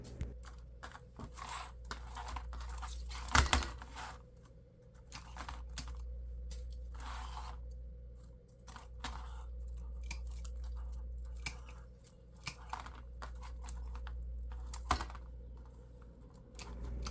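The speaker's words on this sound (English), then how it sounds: "I'm going to clean up my grapevine. Just give it a trim." Scissors snip at a grapevine wreath in a series of close, irregular small cuts and rustles over a steady low hum.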